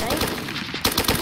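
Rapid automatic gunfire in the video game Blackhawk Rescue Mission 5, a dense burst of repeated shots that breaks off and then resumes with louder, sharper reports, close and loud with no talking.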